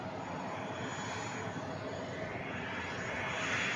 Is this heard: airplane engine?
yes